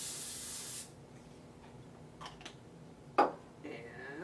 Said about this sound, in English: so now I'm going to spray my pan